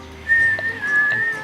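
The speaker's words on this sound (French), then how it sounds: "Digérer en sifflant." A person whistles a short, clear little tune during a hike across the Alps, a single sustained melodic line close by, with no talking.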